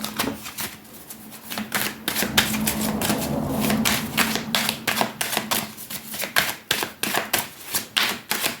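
Tarot cards are shuffled and drawn for a cross-shaped spread. Quick, crisp clicking and riffling snaps come in dense bursts, close up, with a brief softer rustle partway through.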